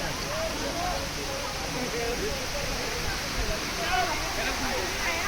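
Large waterfall at Gagangiri Maharaj Math in Khopoli, a continuous broadband rush of falling water, loud and close, with voices mixed faintly into the roar.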